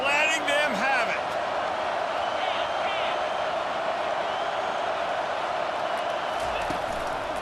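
Dense, loud stadium crowd roar from the NCAA 25 college football video game fills the clip steadily, with whoops and someone talking over it at the start.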